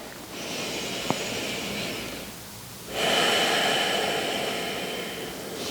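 Slow audible breaths are drawn in and let out during a postnatal yoga stretch, each a long airy hiss close to the microphone, with a short pause between them.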